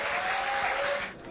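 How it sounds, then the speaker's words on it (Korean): Steady applause from lawmakers at a party meeting, continuous clapping at moderate level that trails off at the end. "박수 한번 주십시오"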